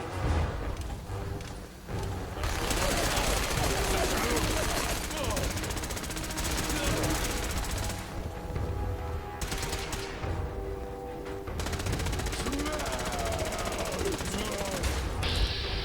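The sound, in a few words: gunfire from weapons in the video game Fallout 4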